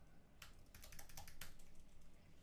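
Quiet, rapid typing on a computer keyboard, a run of soft clicky keystrokes in bursts at close range, with no talking over it.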